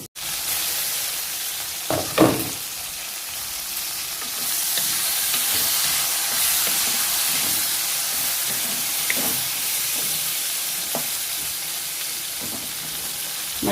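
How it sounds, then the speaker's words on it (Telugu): Green chillies fry in a pan for a tangy chutney, giving a continuous close sizzle and hiss broken by occasional scrapes and knocks as they are stirred. "మధ్య మధ్యలో 1-2 సార్లు మనం ఇలా అన్ని ముక్కల్ని కలుపుకుంటూ వేయించుకుంటే అన్ని సమంగా వేగుతాయి"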